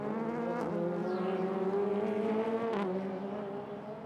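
Super GT race cars at Suzuka, including the Subaru on Dunlop tyres and Team Maha's 86 MC on Yokohamas, roar loudly and steadily with a continuous engine drone that shifts pitch as they run close together, with no talk over it.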